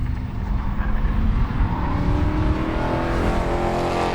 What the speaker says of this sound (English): cars making their way down that back straightaway.